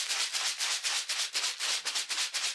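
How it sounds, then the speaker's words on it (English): Small aquarium rocks and a splash of WD-40 shaken in a tumbler give a steady, rhythmic gritty rattle with quick back-and-forth swishes, close and alone, no talking. "Give it a little shake in the old tumbler."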